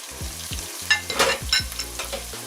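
Carrots drop into a hot, sizzling pan for a hot and spicy Asian oxtail stew, with steady frying crackle and a few clattering stirs scraping through it.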